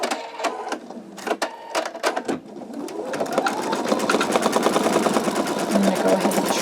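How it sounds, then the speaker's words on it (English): An embroidery machine stitching a satin stitch on an in-the-hoop wallet project, starting with a few separate clacks, then settling into a fast, steady, close mechanical stitching rhythm that runs continuously to the end. "it is going to start doing the satin stitch now"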